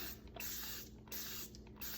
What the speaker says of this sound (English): So let's spray this down.